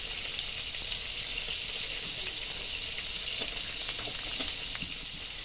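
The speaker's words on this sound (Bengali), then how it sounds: "তেল গরম হয়ে গেছে, এতে দিয়ে দিচ্ছি প্রথমে জিরে, তারপর দিচ্ছি তেজপাতা" Cumin, bay leaves and garam masala frying in hot mustard oil in a wok, a steady, fairly quiet sizzle with faint crackles throughout and no talking.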